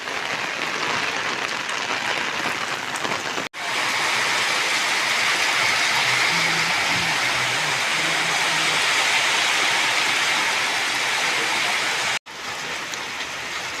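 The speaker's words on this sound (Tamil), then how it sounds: "இப்போ தான் மழை ஓரளவுக்கு பரவாயில்ல, நல்லா வேகமாக மழை பெய்யுது." Heavy rain pours steadily in Pondicherry, a dense, loud, continuous hiss close by with no voices, broken by two brief cuts in the recording.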